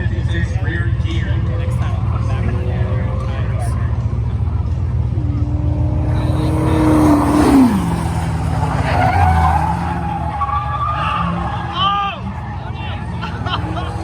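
A 4x4 burnout truck with a 4.56 rear gear roars at high revs as its tires skid and squeal continuously at a spectator drag event, loud and close, with crowd noise and voices underneath.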